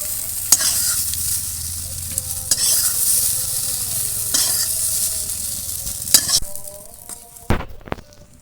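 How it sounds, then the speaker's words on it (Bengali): Eggplant pieces fry in hot oil with a bright, steady sizzle, close and loud, while a utensil clinks against the pan a few times near the end. "বেগুনগুলো একদম সুন্দর করে ভাজা হয়ে গেছে তুলে নিলাম"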